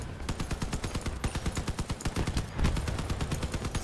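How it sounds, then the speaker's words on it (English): Small vehicle-mounted guns firing in the Crossout combat game, a fast rhythmic stream of sharp repeated shots with no pauses, loud and close throughout. "A whole lot of damage with these little guns, let me tell you."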